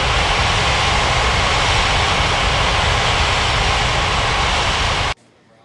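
An airliner on approach to land at Ngurah Rai Bali International Airport in the Unmatched Air Traffic Control game gives a loud, steady jet engine roar that runs unbroken, then cuts off abruptly near the end.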